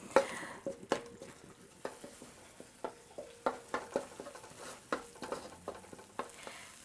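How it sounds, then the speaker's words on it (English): Curry paste sizzles and crackles steadily in hot coconut oil for Thai panang beef curry, with light scraping strokes of a utensil stirring at an even pace. "a pool of oil that is sizzling around the paste"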